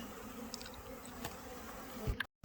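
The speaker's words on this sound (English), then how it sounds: "as soon as I sprayed, bees started piling up right there." Buzzing of many honeybees swarming around a three-year-old hive inside the roof of a residential home, a steady close insect drone that cuts off abruptly at the end.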